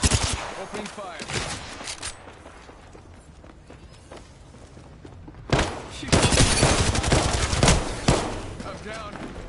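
Rapid bursts of gunfire in a shooter video game, loud and dense at the start, easing into a quieter stretch, then erupting again into sustained automatic fire near the end.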